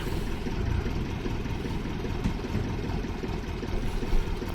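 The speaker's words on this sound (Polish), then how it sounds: "Słyszę, że silnik lokomotywki ładnie, miarowo pracuje na jałowych obrotach." A heavy diesel locomotive engine idles steadily with a low, even rumble, close by and continuous, with no voices over it.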